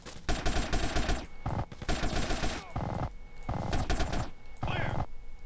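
Minigun in GTA: San Andreas firing in long, dense rapid-fire bursts separated by brief pauses, loud and close, with mechanical whirring between volleys.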